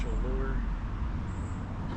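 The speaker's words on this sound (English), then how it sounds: "You can hear the traffic in the background" Road traffic crosses a bridge near a fishing spot, a steady low rumble of passing vehicles in the background at moderate distance, with faint voices.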